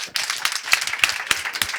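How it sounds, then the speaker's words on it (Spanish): Audience applause at the close of a talk, a short burst of scattered clapping with distinct individual claps rather than a dense roar, moderately loud and without speech. "Yo creo que un aplauso."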